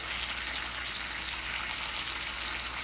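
Korean beef kalbi frying in a pan over medium heat gives off a dense, even sizzle, a steady bright hiss with no breaks and no voices.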